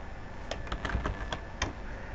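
Light clicking keystrokes on a computer keyboard as a user's name is typed into dental office software, a handful of separate taps at uneven spacing, quiet and close with no talk.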